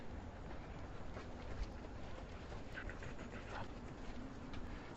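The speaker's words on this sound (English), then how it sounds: "There's a dog coming." A dog panting close by on a breezy outdoor street in Hong Kong, steady rough breaths over constant wind and city noise, with no talk.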